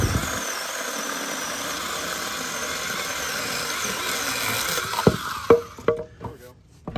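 Tractor engine running steadily at a low idle throughout, close and even, ending in a few sharp knocks and clunks as it works near rocks, with no speech.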